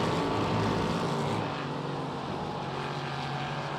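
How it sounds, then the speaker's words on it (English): A loud, steady high-speed engine roar from a Ligier JS P320 LMP3 race car approaching at Mugello holds through the clip, easing slightly after the first second, with no talking. "Hear that fast car coming up on you, Ben."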